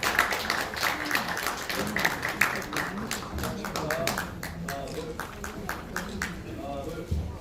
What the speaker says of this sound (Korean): 유기준 의원님 여러분 박수로 축하해주면 감사합니다